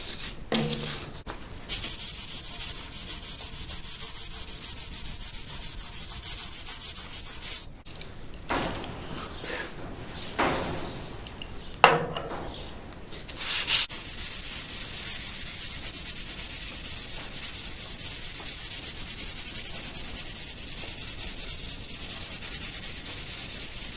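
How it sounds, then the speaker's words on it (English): A power sanding bit grinds against wood in slots of a cast iron table top in a continuous abrasive rasp, pausing midway with a few knocks and scrapes before resuming its steady, loud hiss. "I've got the sanding bit thingy on it, and I just get to work"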